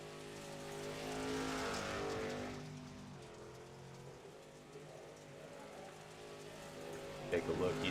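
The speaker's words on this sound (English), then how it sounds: "He's just going around taking some victory laps, taking advantage of some free air time since he's the only car on track right now." A dirt late model race car in a racing video game drones steadily as the lone car circles the track on victory laps, its engine tone holding fairly even with a brief rise near the end, with voices over it.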